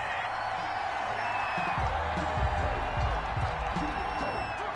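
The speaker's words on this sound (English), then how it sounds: "Well, the crowd doesn't like that." An American football stadium crowd at an Arizona Cardinals game grumbles and boos after a penalty flag on third down, a broad, sustained roar of displeasure filling the background, with a voice briefly heard over it.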